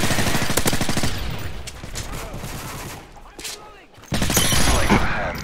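Rapid bursts of automatic gunfire from a Call of Duty Modern Warfare 3 Domination match crackle in quick succession, loud and close, with a quieter stretch before a final heavy burst.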